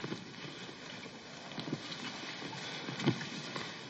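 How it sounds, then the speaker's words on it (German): Steady rain and gusting storm noise fill the scene, with a brief louder rumble near the end. "Das sind keine Flugzeuge. Das ist der Sturm."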